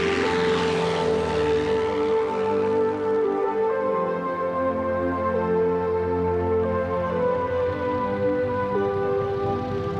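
A Boeing Type 40 mail plane's propeller engine drones steadily and loudly throughout, a continuous layered hum with a sustained rumble, no voices.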